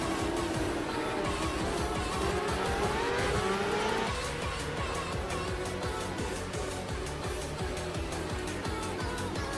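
Race cars in the rFactor racing game scream past with rising and falling engine whine, layered revving and tire squeal, loud and continuous throughout.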